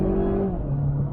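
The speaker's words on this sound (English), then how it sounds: "it jumps right into some boost and just has this lovely little whine" Supercharged Mazda 6 under boost, a loud close engine drone with a tonal whine that slides downward in pitch over about a second, heard from inside the car.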